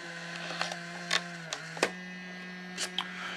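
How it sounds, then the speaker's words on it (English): A Fujifilm instax Share SP-3 smartphone printer prints a photo with a steady low motor hum, broken by a few short clicks and whirring bursts, close and fairly quiet. "it's just printing, and it's actually printing really fast, faster than the SP-2 actually"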